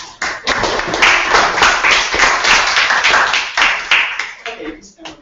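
Members at a student senate committee meeting clap together, a close, irregular burst of hand claps that swells and fades over a few seconds, with a few voices among them.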